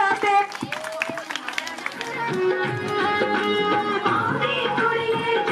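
Crowd clapping and cheering for a giddha folk dance at the Teeyan fair in Mehli village, a dense steady wash of applause and hubbub running throughout, with voices and chatter mixed in.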